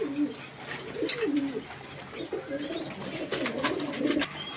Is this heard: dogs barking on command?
no